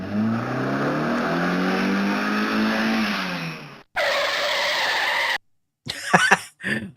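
A car in the Alone in the Dark 2 video game drives with a steady engine drone that slowly falls in pitch, then cuts to a higher hum and later brief tire squeals or skids, all loud and close with no talking.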